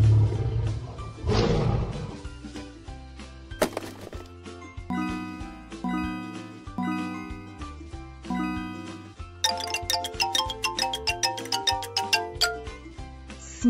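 A lion roars in a children's animal puzzle game. One loud, rough roar bursts out near the start over upbeat cartoon music, followed by chiming jingles and playful melodic tones.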